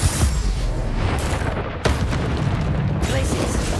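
An explosive Confringo spell blast in the video game Hogwarts Legacy: loud, dense booming noise with a sharp new impact partway through, sustained and close, with game sounds running underneath.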